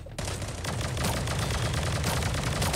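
Dense, continuous automatic gunfire from the Sausage Man battle-royale video game, loud and sustained with rapid overlapping shots and no pauses.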